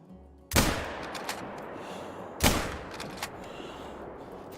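Two loud, sharp rifle shots about two seconds apart while deer hunting in theHunter: Call of the Wild, each cracking close by and trailing off in a long echoing decay, with no talk.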